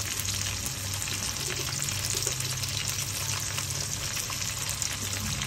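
Capsicum drops into garlic, ginger and chilli already frying in a pan, and a dense, constant sizzle fills the whole stretch at close range with no talking.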